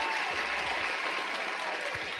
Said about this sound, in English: we're gonna give ourselves a round of applause